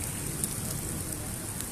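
Steady rain falls in a dense, even patter with a continuous hiss and occasional louder drops, close by and with no voices.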